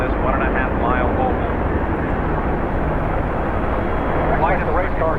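An Apache helicopter hovers over a 1.5-mile oval race track in a NASCAR simulation, giving a loud, continuous rotor and engine roar that fills the whole stretch with no pause.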